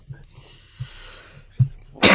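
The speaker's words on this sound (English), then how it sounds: "I have a chronic cough that's related to" Several short, harsh chronic coughs related to phlegm come in quick bursts, each followed by a brief pause, with a bit of breathing between them.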